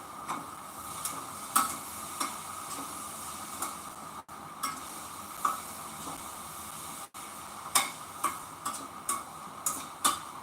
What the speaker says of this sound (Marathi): रवा भाजून घ्यायचा आहे आपल्याला चांगलं व्यवस्थित तुपात